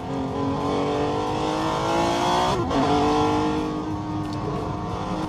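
A Tesla electric car plays a simulated combustion engine sound through a Maxhaust sound booster. The continuous engine-like drone is close and steady and shifts pitch as the car accelerates and then decelerates, with road noise underneath.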